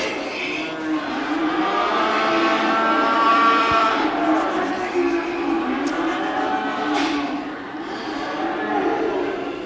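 Heifers at a commercial cattle show in a fall fair barn keep up overlapping moos and lowing. Crowd murmur and arena noise run under them continuously.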